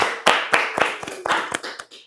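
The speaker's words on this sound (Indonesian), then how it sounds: "Tepuk tangan dong." A few people clapping on a talk show set, irregular sharp claps with short gaps between them, close and fairly clear, fading out toward the end.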